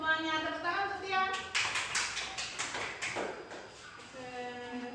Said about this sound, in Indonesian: Semuanya tepuk tangan untuk Tian